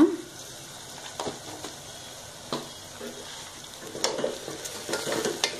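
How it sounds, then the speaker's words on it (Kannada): Turmeric is stirred into a sizzling oil tempering for vermicelli upma. Scattered scraping spoon strokes sound over a low, quiet frying hiss, growing busier toward the end. "ಚೆನ್ನಾಗಿ ಮಿಕ್ಸ್ ಮಾಡ್ಕೊಳ್ಳೋಣ."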